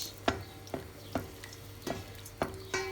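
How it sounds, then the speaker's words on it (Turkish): Onions sautéing in olive oil in a pan, a soft steady sizzle broken by regular stirring clacks of a utensil roughly every half second, close up and fairly quiet. "Şimdi soğanlarımızı güzelce kavuruyoruz"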